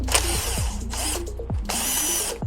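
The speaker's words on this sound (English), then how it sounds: "according to the manual, we had to take out these two size 4 Allen screws" A power driver spins out Allen screws on an Evoltrix MAX-60 electric off-road bike, with loud close whirring bursts that rise and fall in pitch and stop and start several times in quick succession.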